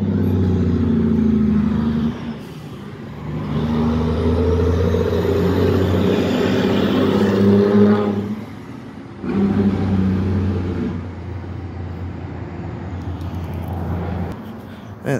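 A truck drives past with a loud engine rumble that swells and drops away twice, leaving brief quieter gaps before the sound returns.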